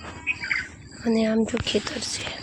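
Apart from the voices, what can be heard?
bird singing in a mango tree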